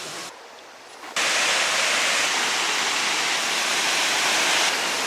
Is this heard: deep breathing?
no